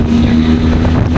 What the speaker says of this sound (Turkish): motosikletin e, çok hoş bir egzoz sesi var.